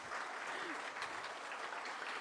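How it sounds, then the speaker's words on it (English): An audience at a business school induction ceremony applauds steadily, with dense continuous clapping that fills the whole moment at an even, fairly loud level. "give a big round of applause first"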